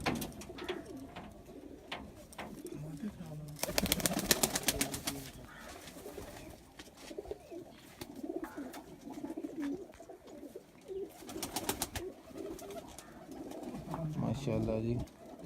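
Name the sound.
pigeon cooing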